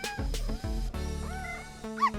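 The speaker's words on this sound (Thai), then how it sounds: "แมวได้ยินเสียงเห่า" Dog barking, several sharp yips and barks in quick succession close by over a sustained harmonic music bed, with a cat-like squeal near the end.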